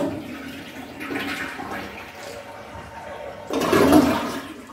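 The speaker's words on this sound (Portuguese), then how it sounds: "Então agora, meus amores, eu vou dar descarga." A toilet flushes with a steady rushing of water that swells into a louder gush near the end, heard alone without talk.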